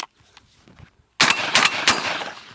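A semi-automatic shotgun, Franchi Affinity 3 or Winchester SX4, fires light target loads in two or three quick loud blasts close by, after a brief quiet stretch with faint handling noise.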